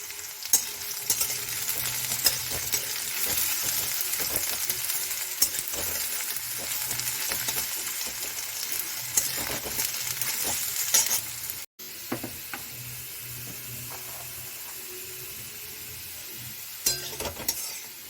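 Semolina fries in a pan with a few small pieces of fried bread while being stirred, making a continuous close sizzle with scraping stirring strokes and a brief break partway through.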